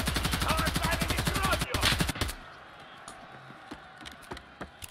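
Rapid automatic gunfire in the video game Escape from Tarkov Arena, a fast, loud, regular burst of shots lasting about two seconds, then scattered quieter shots and clicks further off.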